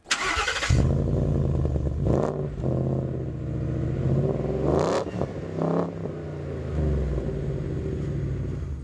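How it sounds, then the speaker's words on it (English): A Ford Bronco's engine starts and idles with a deep rumble through a restrained Borla exhaust, revving up a few times in between. "Borla does our exhaust system."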